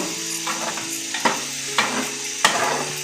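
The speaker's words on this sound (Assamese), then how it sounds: "আকৌ মই 5 মিনিট ভাজি ল'ম" Spinach with paneer fries in a pan for palak paneer, a continuous sizzle broken by three or four sharp scrapes of a spatula stirring against the metal.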